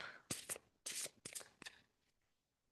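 Tarot cards being shuffled by hand, several quick riffling bursts close up, each a crisp papery flutter separated by brief pauses, then quiet.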